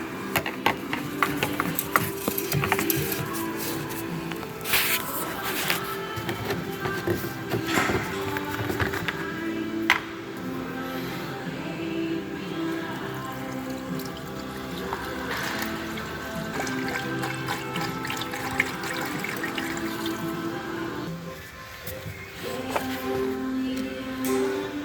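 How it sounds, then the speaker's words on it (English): Engine flush liquid glugs and trickles as it is poured into the oil filler of a GMC/Chevy 5.3L truck engine, a continuous close pouring sound with occasional clinks and taps of the bottle. "I'm gonna add my engine flush"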